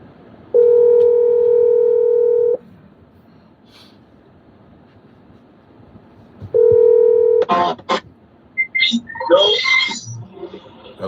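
Two bursts of a loud, steady telephone dial tone, a long one and then a shorter one, are followed by quick, clustered keypad dialing tones and clicks as a call is placed.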